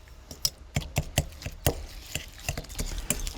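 Cookie dough with an egg and a teaspoon of vanilla is mixed by hand, making close, wet, irregular thuds and squishy slaps at an uneven rhythm, with no voices.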